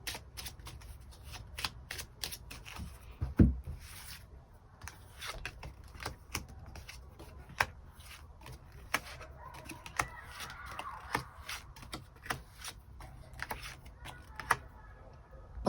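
Tarot cards being shuffled and drawn by hand. Quick, crisp flicks and soft riffling snaps come in an uneven stream, close but fairly quiet, with one sharper tap partway through.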